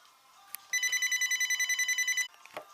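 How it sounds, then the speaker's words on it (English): A telephone rings indoors with one sustained electronic trill, a rapid pulsing tone lasting about a second and a half, loud and close, with faint clicks and room noise before and after. "There's that phone again."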